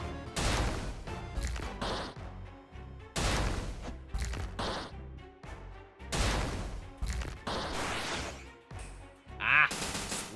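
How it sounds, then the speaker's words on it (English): Explosions in the video game TEVI: a series of loud, sharp blasts in separate bursts with brief gaps between them, the last one especially hard-hitting. "Explosions."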